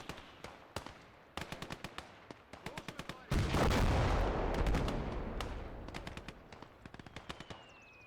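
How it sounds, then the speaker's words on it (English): Battlefield combat in the World War II game Gates of Hell, with a mortar firing amid rapid bursts of gunfire and a loud heavy blast that rumbles and decays over several seconds, surrounded by sharp, close repeated shots. "Mortar's back up and firing again"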